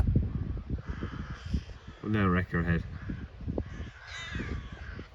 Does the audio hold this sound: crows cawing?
yes